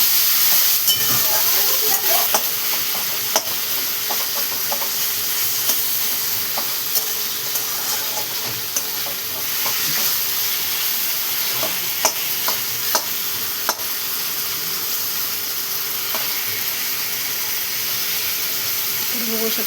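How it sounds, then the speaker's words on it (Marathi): Raw tomatoes are sautéed with onion in a pan for chutney, producing a steady loud hiss and sizzle with scattered spatula clicks and scrapes that run throughout. "तर आता बघा आपण टमाट्यामध्ये टाकून घेणार आहे. हे छान असं परतून घेणार आपण सगळ्या बाजूने"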